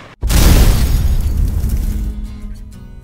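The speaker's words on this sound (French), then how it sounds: "Je lance une grenade." A grenade explodes in the military shooter Arma 2, a sudden loud blast that fills the whole clip and then decays into a long rumbling tail with no speech.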